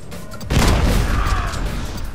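A shotgun fires in the video game The Club, with one sudden heavy blast followed by a rumbling, decaying tail.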